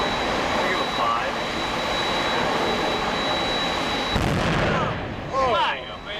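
A single barrel of the big gun aboard the battleship USS Missouri fires as one heavy, booming blast partway through, over steady roaring background noise, followed by excited voices of people nearby.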